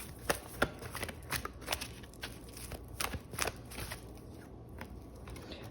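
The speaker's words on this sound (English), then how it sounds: "So let's pull some cards, some oracle cards." Oracle cards shuffled by hand in a quiet room, a run of soft papery riffles and slaps at an uneven rhythm, close and fairly faint.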